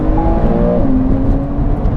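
A sports car with a PDK gearbox accelerates, its engine note rising as a loud, close drone with a tonal whine that climbs steadily, no one speaking over it.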